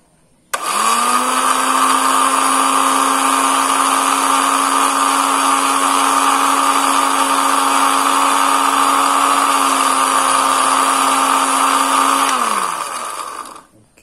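An electric grinder powders dried moringa leaves into green flour, starting abruptly with a loud, steady high motor whine and grinding roar that holds for about twelve seconds before winding down and stopping.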